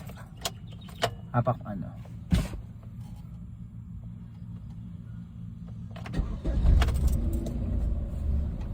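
A car with a check-engine warning starting up after a stretch of idle quiet: keys jingle and clicks early on, then around six seconds the engine catches with a loud broadband surge and settles into a steady near idle, brief talk around it.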